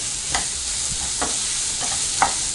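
Kara santhagai mixture sizzling in a hot pan with a steady hiss, broken by three or four quick scraping stirs of a spatula.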